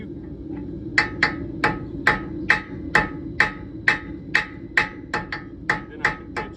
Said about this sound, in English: I'm just using the tip of my hammer to push it into the shoe.